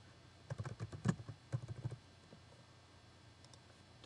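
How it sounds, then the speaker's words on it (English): Typing on a computer keyboard, a quick, faint burst of key clicks lasting about a second and a half, then near silence with a few stray taps. "You can type in some more text."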